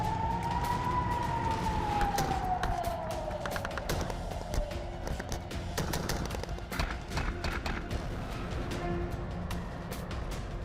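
Emergency sirens wail amid war footage, one rising and falling tone sweeping slowly, loud and steady over a constant rumble with sharp clatters later on.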